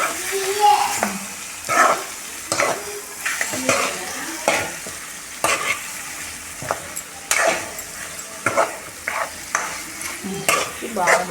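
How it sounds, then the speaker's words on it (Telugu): Mutton masala being stirred in a pan, with repeated scraping strokes of a spoon against the metal over a soft sizzle, arriving in irregular bursts close to the listener. "బాగా దీన్ని కలుపుకోవాలండి"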